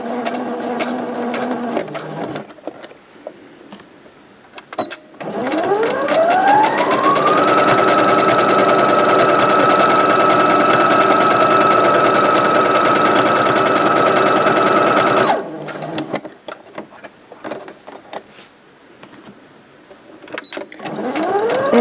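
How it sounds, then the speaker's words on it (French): A sewing machine runs steadily for about ten seconds while stitching the seam of a snood. It is loud and close, and its whirring motor rises in pitch as it starts up. Quieter handling noises come before and after the stitching. "Donc là, nous allons coudre l'autre côté."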